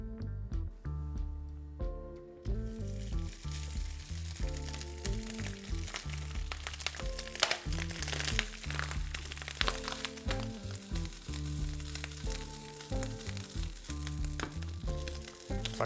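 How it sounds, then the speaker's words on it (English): Rice frying in a couple tablespoons of oil in a hot skillet on a stovetop, a steady close sizzle crackling throughout, starting from near silence and building quickly after the first couple of seconds. "I'm going to go ahead and add a couple tablespoons of oil now, and then the rice"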